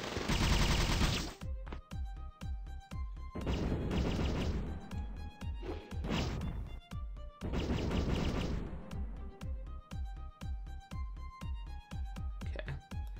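Repeated booming blasts and crackling bursts from an explosion spell in Epic Battle Fantasy 4, loud and dense, with rapid percussive hits and musical tones between them.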